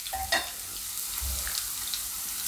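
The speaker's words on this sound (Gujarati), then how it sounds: "બટેટાને આપણે આમાં તેલમાં પાકવા દેહું," Potatoes fry in hot oil in a kadai for a Gujarati mixed vegetable shaak, giving a steady dense sizzle with a few soft stirring knocks and no voices.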